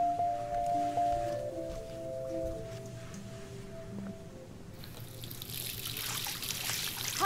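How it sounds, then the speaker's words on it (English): Shower water running in Life Is Strange: a soft trickling hiss under game music tones, with the water swelling brighter and louder in the last seconds. "Is the shower still on?"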